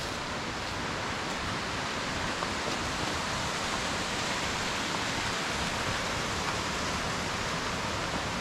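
Waterfall on a mountain hike near Lake Como, Italy, a constant rushing hiss of falling water, steady and full with no pauses, heard alone.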